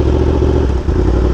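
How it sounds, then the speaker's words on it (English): A track bike engine revving loudly right after the clutch is let out, a close, harsh buzzing drone with a brief dip before picking back up. "I literally just released the clutch and the bike revs louder"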